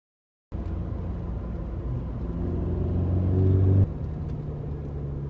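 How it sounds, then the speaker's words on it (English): A tuned Mercedes C250 pulls hard under acceleration, its engine and turbo note rising steadily in pitch and loudness for about three seconds before dropping sharply at a gear change and carrying on at a lower drone. "that first pull was good. You could feel the turbo spooling and just going."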